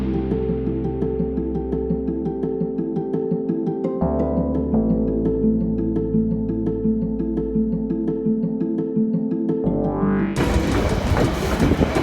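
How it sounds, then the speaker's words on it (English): A train rolls steadily along the rails through the Yukon mountains with rhythmic clickety-clack, loud and close, ending in a burst of rushing noise. "we took a really cool train ride around the Yukon Mountains"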